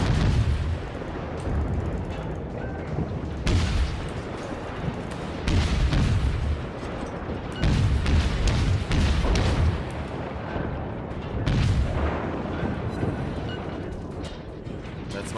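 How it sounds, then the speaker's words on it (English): A cruiser's guns fire in World of Warships, producing loud repeated salvos that boom in regular waves with rumbling explosions between them, and a player speaks quietly underneath. "Damn those guns. That's a lot of guns."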